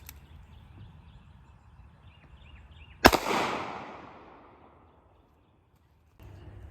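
A single sharp report from an NAA Mini 22 Magnum revolver fired at 15 yards, cracking out loud midway through quiet outdoor ambience and ringing away over about two seconds before a faint background returns.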